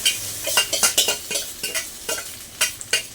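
Leftover cooked rice being stir-fried with roasted peanuts in a pan, giving repeated scraping and stirring strokes with a light sizzle, close and fairly loud in an irregular rhythm, with no talking.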